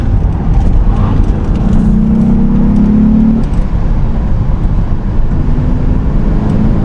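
A Mitsubishi 3000GT's engine rumbles through a corner with a heel-and-toe downshift, a short rev blip rising over steady road and wind noise.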